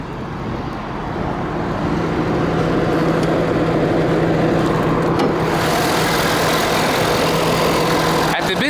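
A 2012 Ford F250 Super Duty's 6.7 liter Powerstroke turbo diesel V8 idles steadily up close with the hood open, a constant low rumble with a droning hum and no speech.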